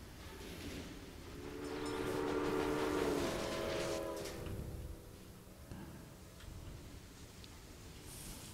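A train in a video game pulls in with steady rail rumble and a rhythmic clicking that swells and then fades. A faint horn-like tone rises midway, and no one talks over it.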